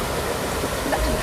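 Steady broadband rush of a flowing river beside a campsite at Bedengan, Malang, continuous and fairly loud with no talk over it.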